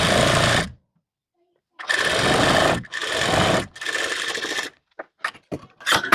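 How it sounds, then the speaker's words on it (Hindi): Sewing machine stitching a blouse seam with a narrow margin, running in several loud bursts with short pauses between, close by. "इस पर मैं सिलाई लगा रही हूँ"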